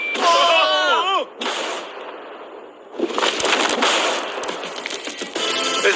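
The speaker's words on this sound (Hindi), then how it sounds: "इस धमाके ने सच में मुझे डरा दिया।" A TNT blast destroying a steel safe: a loud, sudden explosion that breaks into a long roar and crackle of scattering debris, following a brief burst of voice at the start.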